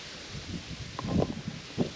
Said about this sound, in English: It is pretty windy up here on this hill